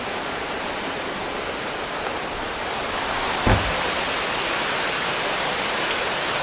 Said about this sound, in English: Still a little water coming in